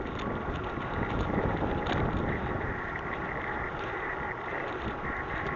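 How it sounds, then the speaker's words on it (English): Wind buffets a cheap Jozuze L11 action camera microphone on a bike ride in the UK, a constant loud, rumbling roar with gusty surges and no wind noise reduction. "The wind's blowing right at us, so you'll probably be hearing that."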